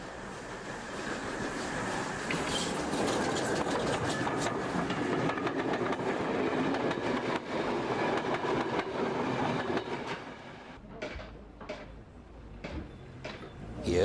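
A steam train runs on a branch line railway toward Minehead, making a continuous rolling rumble with clicking wheels that fades after about ten seconds into sparser knocks and clanks.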